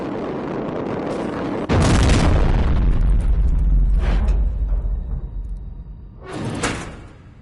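A heavy sliding door in the video game Terminator Resistance grinds open with a loud booming thud, rumbling on for a few seconds, and a second heavy mechanical clank follows later.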